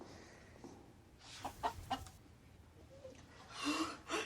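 Chickens cluck in short bursts, a few nearby calls scattered across the clip, with a louder squawking flurry near the end.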